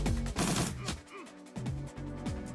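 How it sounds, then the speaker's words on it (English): A shotgun blast from the video game Shadowrun Returns cracks loudly near the start, followed by busy game effects and tonal sweeps, with no talking. "Sam is now going to run up behind this table and also shoot New Larry"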